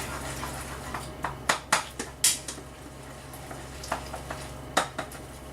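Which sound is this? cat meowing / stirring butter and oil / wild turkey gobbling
stirring butter and oil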